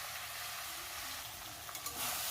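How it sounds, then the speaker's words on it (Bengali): Jujubes (kul) hit hot oil with fried five-spice for a Bengali-style pickle, giving a soft, steady sizzle with a faint stirring scrape near the end, quiet and without talk. "ফোড়নটা যখন ভাজা হয়ে গেছে তখন আমি কুলটাকে দিয়ে দিচ্ছি।"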